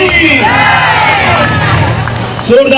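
A school audience at a Shiv Jayanti festival cheers and claps loudly, a dense close roar of voices and applause that swells and then eases, with a brief louder burst at the end.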